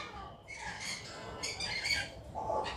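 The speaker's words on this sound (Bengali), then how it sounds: "এখানে দেখো পুরো একদম অ্যাডাল্ট পেয়ার আছে কঙ্গো আফ্রিকান গ্রে" An adult pair of Congo African grey parrots at a bird exhibition fair squawk in several short, harsh bursts, fairly faint against a low background murmur.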